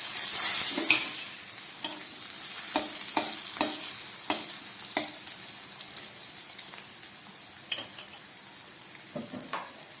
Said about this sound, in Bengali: এবার এই তেলের মধ্যে আমি কেটে রাখা উচ্ছেগুলো ভেজে নিচ্ছি।